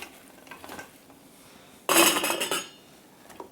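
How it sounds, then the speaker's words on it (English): Cranberries poured into glass mason jars for canning give a sudden clattering, rattling burst that lasts under a second after quiet handling sounds, followed by a faint tap. "we take our cranberries and we're going to fill our mason"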